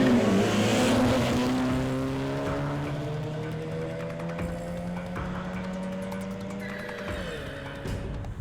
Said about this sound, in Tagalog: pinahinto mga nagdadang sasakyan. Tila hudyat ng pagsisimula ng karera.